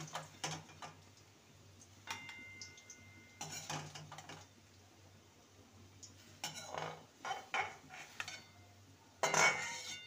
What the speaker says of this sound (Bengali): আমগুলোকে একটি পাত্রে তুলে নেব।